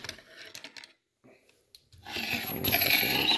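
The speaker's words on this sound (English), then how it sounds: "So Taking apart the bolt for you." Metal clicks and scrapes of an RAS47 rifle bolt being taken apart, scattered taps at first, a brief lull, then a denser, louder run of rattling metal handling close by.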